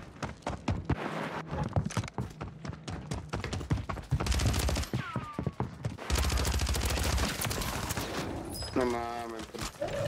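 DTIR 30-06 rifle fire in Call of Duty Warzone, a few sharp loud shots and rapid bursts mixed with game effects, while players talk over the action.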